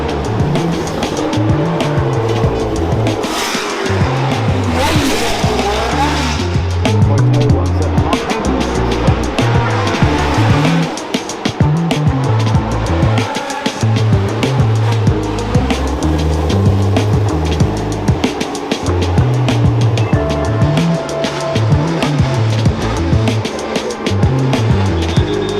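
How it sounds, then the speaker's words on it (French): 1980s race cars circle a track, roaring loud and continuous from trackside with engine notes rising and falling as they pass and some tire squeal. "c'est des voitures de 1980 qui roulent"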